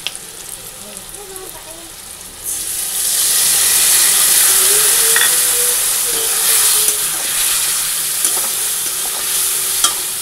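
Fish curry with ground spices sizzling loudly in a pan, a steady hissing fry that surges in after a quieter start and holds with faint stirring scrapes.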